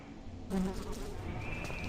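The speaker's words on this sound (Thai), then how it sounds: "แมงวันก็บินหึ่งแล้ว" A housefly buzzes steadily in a room with a bagged corpse in the Eyes horror game, a faint droning hum that starts abruptly and continues alone.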